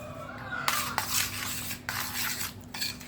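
Fruit chaat with cream and crushed black pepper being mixed by hand in a large metal tray, scraping and clinking of a spoon against the metal in several short strokes, close and moderately loud.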